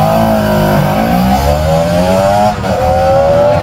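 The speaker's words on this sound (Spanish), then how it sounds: "así era la NS400R, un unicornio con escape de 2T" Honda NS400R two-stroke motorcycle engine revving loudly and close, pitch rising and holding in sustained strokes with a brief dip before climbing again.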